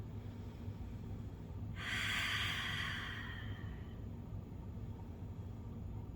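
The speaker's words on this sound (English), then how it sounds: "Let's take a couple breaths here." A single slow breath, audible and airy, rises and fades over a couple of seconds in a quiet room during a gentle restorative yoga stretch, with no talking.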